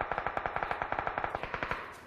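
Rapid automatic gunfire in a video game, a steady rhythmic burst of about twenty evenly spaced shots, somewhat distant and alone with no talk over it.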